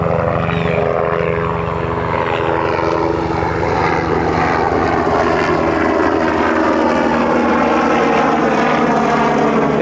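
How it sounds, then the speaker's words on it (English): A sheriff's office police helicopter flies overhead in Florida, its engine and rotor making a loud, continuous droning whine that shifts slowly in pitch as it passes close by, with no talk over it. "And of course, there's a helicopter coming up."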